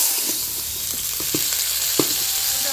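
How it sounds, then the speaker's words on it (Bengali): Boiled potato pieces fry in hot oil with a steady, loud sizzle, along with a few soft stirring knocks from a spatula, and no voices. "এখন আলুটা ভেজে নিব।"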